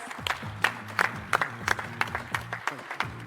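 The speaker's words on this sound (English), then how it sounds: "Can we have a round of applause, please?" Applause at a golf business session of the NDTV World Summit, a fairly faint and sparse clapping with distinct individual claps over a low background drone.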